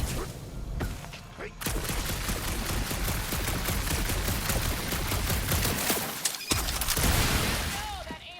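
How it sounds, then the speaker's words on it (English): Sustained, rapid shooting from a Guardians of the Galaxy game fight, a long dense barrage of blaster fire with a short break near the end, with voices mixed in amid the noise. "that aimless shooting isn't gonna scare the monsters away"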